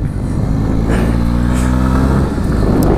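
A Honda CB125R motorcycle's engine pulls up through the revs after a gear change, a close, steady mid-pitched drone rising in tone with a brief dip partway, over wind rush and without talk.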